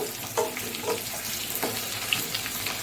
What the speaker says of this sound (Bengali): প্রায় ভাজা ভাজা হয়ে এসেছে আমার আলু আর পেঁপেগুলো